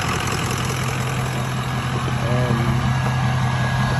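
A 2003 Ford 6.0 Powerstroke diesel idles after a cold start at 35 degrees with new stock injectors, a steady, loud, rumbling low clatter close up, with a brief voice-like sound partway through.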